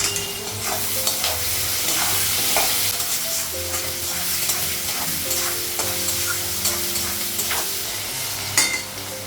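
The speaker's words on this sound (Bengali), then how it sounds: "পেঁয়াজটা আলুটা ভাজা হয়ে গেছে," Potatoes and onions frying together in a pan, a steady sizzle with repeated scraping stirs throughout, close and alone.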